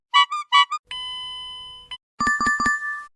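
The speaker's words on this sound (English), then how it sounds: "Sound is car warning chime." A car warning chime sounds close and clear: a single sustained tone that slowly fades, followed by a quick run of four repeated chime notes.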